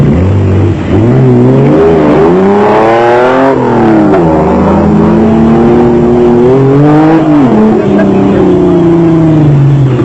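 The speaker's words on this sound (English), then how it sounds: "Next up and leading Class D is the works-assisted Castrol Toyota Land Cruiser of Shumi van Vieren and Fani" Castrol Toyota Land Cruiser off-road race car in Class D at the 2001 Lichtenburg Off Road Race in South Africa, its engine droning loudly and steadily throughout, pitch rising and falling with revs, while a commentator talks over it.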